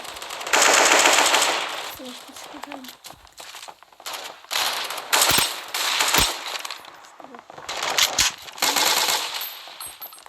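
Video game gunfire, loud rapid machine-gun bursts and scattered single shots in several runs, with a voice talking at times over the shooting.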